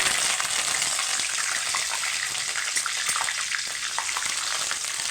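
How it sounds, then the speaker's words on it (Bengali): Curry leaves frying in hot oil on a low gas flame while making a special rice dish, giving a steady, close, bright crackling hiss that runs through the whole stretch without speech. "এবার আমি কিছু কারি পাতা ভেজে নেব"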